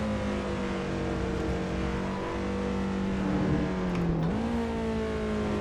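Lotus Elise SC RSR on a warm-up lap at Mount Panorama, Bathurst: a loud, steady engine drone from inside the car, its pitch holding then dipping and rising again as the driver shifts or accelerates.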